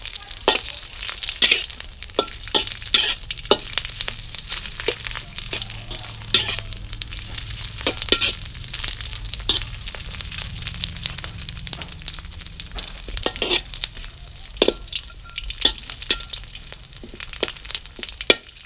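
Dried squid frying in hot oil: a steady, close crackle and sizzle with dense sharp pops throughout, and no talk over it.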